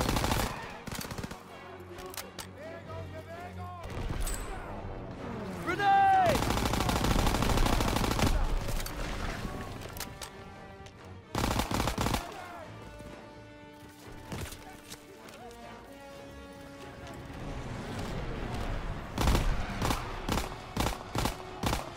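Gunfire fills a Call of Duty WW2 campaign battle: rapid machine-gun bursts and single shots crack in dense clusters with pauses, alongside explosions and shouted voices in the game mix.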